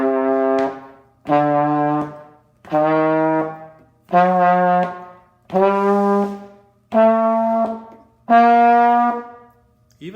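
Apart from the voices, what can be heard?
brass mouthpiece buzzing up and down the scale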